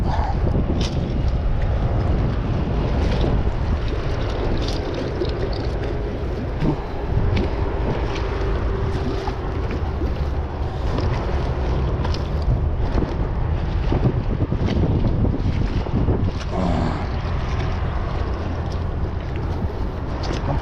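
Steady wind roars across the microphone outdoors, a constant blustery rumble with faint splashing of water, continuing throughout without pause.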